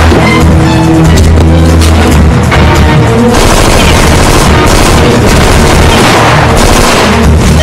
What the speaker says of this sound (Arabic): في تبادل اطلاق نار جوه يا فندم